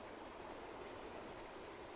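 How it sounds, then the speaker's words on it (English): The Sauk River flows over big boulders and cobbles, a steady, faint broadband rush of moving water without pauses and with no voices over it. "Sauk River, bunch of big boulders, cobbles."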